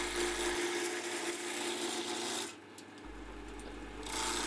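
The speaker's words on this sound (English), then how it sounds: "This was my first cut on a wood lathe in 33 years" A wood lathe spins a wooden workpiece while a gouge chisel cuts it, giving a continuous rough rasping drone that eases briefly midway. The cutting is close and moderately quiet, with no speech.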